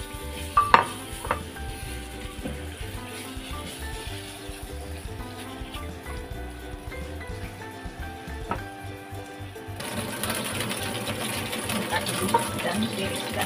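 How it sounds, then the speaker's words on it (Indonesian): Beef sizzles and crackles in oil in a hot pan while a utensil scrapes and stirs, the frying getting louder and hissier toward the end. "Sekarang goreng-goreng dulu"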